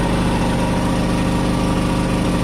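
A Narva 3300 petrol generator runs steadily under a 2.5 kW load with a loud, even engine drone and a low pulsing throb. The sound carries on unbroken with no talk.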